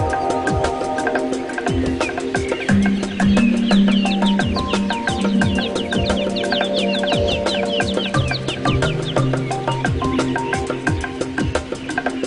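Many birds call and sing among forest branches, a dense chorus of chirps and repeated notes with clucking, fowl-like calls, steady and close throughout.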